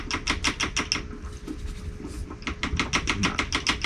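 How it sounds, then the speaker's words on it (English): Rapid, regular tapping of a feeding tube against the side of a shrimp aquarium to push food pellets down, crisp close clicks in two quick runs separated by a short pause. "I use the side of the tank to tap these in."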